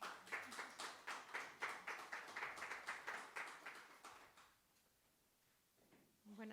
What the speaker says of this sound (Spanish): pues venga, le damos un aplauso y empezamos